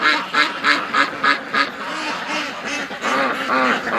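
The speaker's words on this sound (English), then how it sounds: "Oh, little skipper duck." Ducks on a farm quack repeatedly in rhythmic bursts, several calls close together and fairly loud, with no talk over them.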